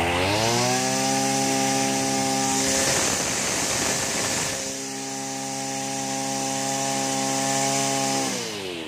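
A Mitsubishi TL231 brush cutter's small two-stroke engine runs close and loud, with a steady buzzing drone that briefly revs up rougher in the middle, then eases back to idle and rises again.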